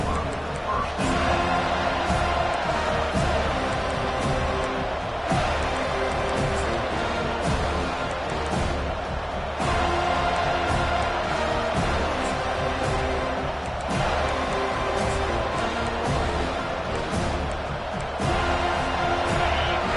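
A football stadium crowd keeps up a loud, continuous roar of cheering and noise for the whole stretch, with a commentator's voice running over it.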